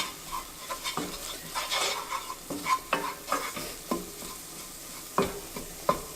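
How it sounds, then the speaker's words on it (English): Flour mixture stirred into butter, onions and garlic for creamed spinach, giving repeated close scraping strokes of a utensil against the pan over a soft sizzle, with no talking. "mix that with the butter, the onions, and the garlic. Give that a good stir till combined."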